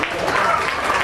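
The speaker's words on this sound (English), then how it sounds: "So give her a nice big round of applause." Audience at a county fair swine show gives a short burst of applause, brief and fairly close, overlapping with a voice.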